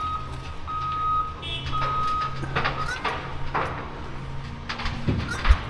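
A dump truck reverses along a storm-damaged river during cleanup, its backup alarm beeping in a steady repeating pattern over engine rumble and clattering of doors and debris, with faint voices nearby.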